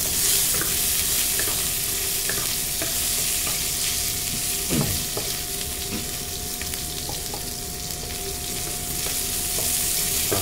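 Onions fry in a pan, giving a steady, close sizzle with occasional stirring scrapes and clinks, continuous and fairly loud throughout.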